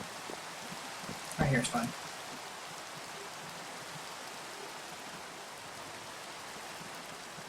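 Steady rain falls in Minecraft Sky Factory 3, a constant even hiss throughout, with a brief spoken phrase near the start.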